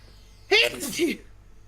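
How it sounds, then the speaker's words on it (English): One sharp, loud human sneeze bursts out after a brief quiet moment, with a short voiced tail before it fades back to silence. "I sneezed so hard I almost threw my headset off."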